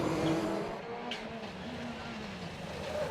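A Ford Fiesta rallycross car races around the Mondello Park track during a British Rallycross Championship round, its engine droning loudly and steadily from a moderate distance with rising and falling revs.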